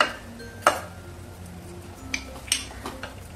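Eggplant is stir-fried with spices in a pan: a spoon gives a few distinct metallic clinks and taps against the pan over a quiet background.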